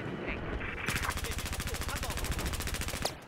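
Rapid automatic gunfire in the video game Battlefield 4, a sustained burst of evenly spaced shots starting after a brief lead-in and stopping just before the end, loud and close, with a voice speaking over it.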